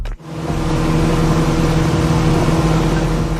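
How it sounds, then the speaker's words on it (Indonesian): A speedboat engine roars loudly and steadily close by after a brief start, holding a constant drone throughout. "Deru suara mesin speedboat terdengar cukup kencang."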